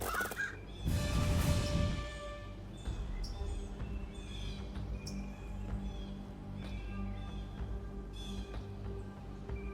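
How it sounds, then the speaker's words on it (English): Crows caw repeatedly in the Fantasy General 2 fantasy strategy game, sharp harsh calls rising over a dense, steady game soundscape with a louder burst early on. "They do not like my crows."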